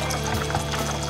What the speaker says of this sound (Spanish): Añadiremos el agua